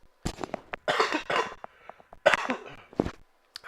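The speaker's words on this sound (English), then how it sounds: "Sorry about the coughing, guys." Several harsh coughs in quick bursts, close by, with short pauses between fits and a final small throat sound.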